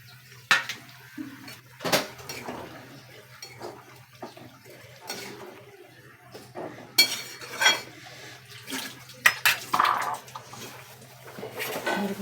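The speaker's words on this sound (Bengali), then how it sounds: "সর্ষে পোস্তটা ফুটে গেছে এবার পটলটা ঢেলে দিচ্ছি" Pointed gourd pieces tipped into a pan of simmering mustard-poppy sauce, giving scattered clattering knocks and scraping of utensil against the pan, fairly quiet, with a steady low hum underneath.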